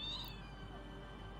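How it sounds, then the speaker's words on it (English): A house cat lets out one short, faint meow right at the start, followed by quiet room hum with no talking. "Excuse me, that was my cat."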